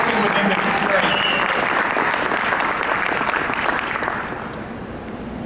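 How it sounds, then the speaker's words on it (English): An audience at an education conference applauds its eight speakers, with dense, loud, sustained clapping that holds steady and then slowly tapers toward the end. "Let's give another round of applause for our 8 speakers who did an amazing job working within the constraints."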